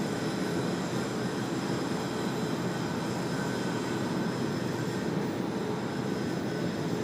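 Steady, loud jet roar of a Jetstar airliner landing at Sydney Airport, a broad continuous rumble and whine that holds level throughout without voices.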